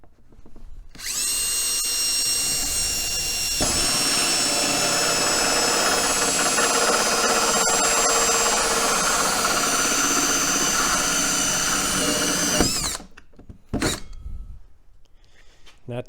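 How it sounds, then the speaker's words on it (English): A power drill whirs steadily into plastic for about twelve seconds, loud and close, then stops, followed by a few short clicks and handling sounds. "and let's get drilling"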